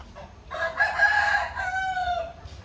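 A heavy, double-bodied rooster crows once, close and loud, its long call rising and then trailing off over faint background noise.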